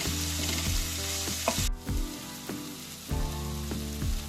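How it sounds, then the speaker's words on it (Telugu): Onions fry in a pan with a loud, close sizzle, broken by a sharp cut partway through and then by several quick clattering scrapes of stirring at a regular pace. "ఇవి కొంచెం గోల్డ్ కలర్ వచ్చే వరకు ఫ్రై చేసుకున్నామండి"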